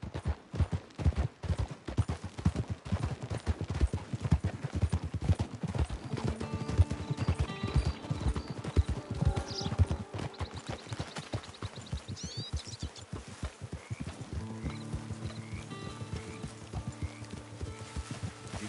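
A horse's hooves clip-clop steadily in the Red Dead Online video game, a fast regular trot that keeps going under faint game sounds, with a brief whinny-like tone and music-like tones near the end.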